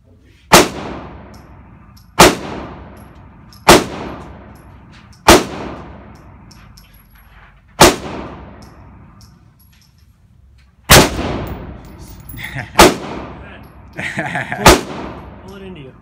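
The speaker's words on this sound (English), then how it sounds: "When you're ready, pull the trigger." Eight loud, sharp gunshots from a 7.5-inch AR rifle ring out one by one at uneven intervals, each shot followed by a decaying echo, with some faint background noise between shots.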